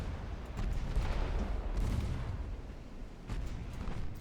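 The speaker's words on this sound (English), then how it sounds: "Battle cruisers are opening up." Battlecruisers firing their guns in the naval warfare game Ultimate Admiral Dreadnoughts, with a rumbling mass of distant, overlapping cannon booms that come in waves over a low, continuous roar.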